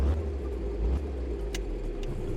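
A car engine in My Winter Car idles on the choke, a steady low rumbling drone that stays close and even, with a few faint clicks on top.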